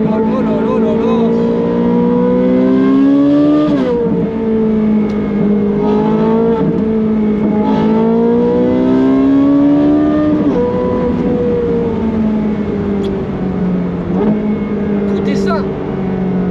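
Naturally aspirated V8s of a Ferrari 458 Speciale and a 430 Scuderia, both on Capristo exhausts, scream through long revving sweeps close by, rising and dropping in pitch for the whole stretch, with a voice briefly over them.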